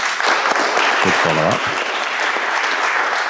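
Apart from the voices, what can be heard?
audience applause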